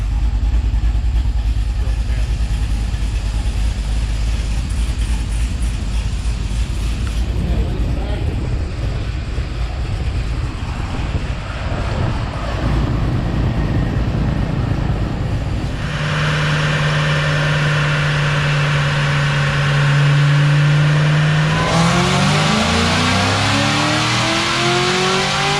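Cadillac CTS-V with a 5.3 truck-cam engine and 244 upper on a dyno, a continuous loud rumble that builds into a sustained high-revving pull, then climbing harmonics as the engine spins up near the end.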